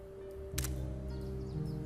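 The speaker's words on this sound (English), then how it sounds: "I could hear the heavy clunk of the shutter and the whirring of the processing photo as it slid out" A Polaroid camera fires in a horror story: a single short, sharp shutter clunk, followed by a faint, steady mechanical whir as the photo feeds out. It is quiet and close, with no talking.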